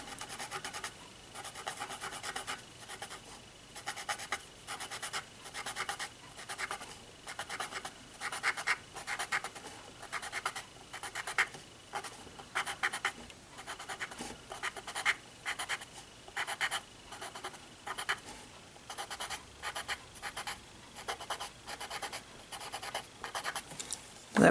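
A paper tortillion rubbed over graphite shading on paper to blend it, a steady rhythmic scratchy rasp of back-and-forth strokes, close and soft, continuing without pause.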